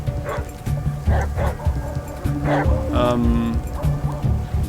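A dog barks repeatedly in the post-apocalyptic video game ATOM RPG Trudograd, sharp woofs mixed with game sound effects and background noise, while a player talks over it.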